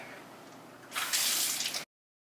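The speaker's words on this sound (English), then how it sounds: "let's wash our hands" Hands are washed under a running tap: after a quiet start, water gushes and splashes close by for about a second, then stops abruptly into silence.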